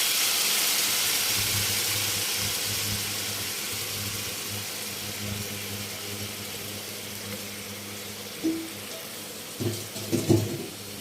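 Red amaranth leaves hit hot oil in a pan, a continuous broad sizzle that slowly softens, with a few brief clatters of a utensil near the end.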